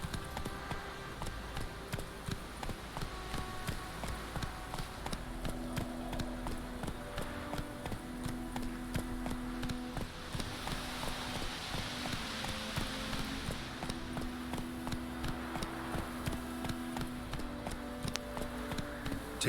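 Horse hooves gallop steadily in The Witcher 3, a continuous rhythmic clip-clop running the whole time at moderate volume, with game ambience and no talking.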